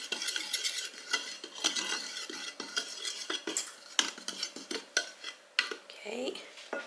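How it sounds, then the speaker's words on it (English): A spoon stirring a pinch of salt into a breakfast mixture in a bowl or pan, rapid clinking and scraping strokes in an irregular rhythm, close and fairly loud, with faint sizzling beneath. "I'm just going to give that a stir"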